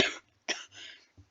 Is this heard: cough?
yes